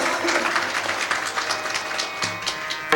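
Audience applause at a Marathi kirtan marking the samadhi ceremony of Sant Dnyaneshwar, a steady wash of many hands clapping close and loud across the whole stretch, with a few sharper claps near the end.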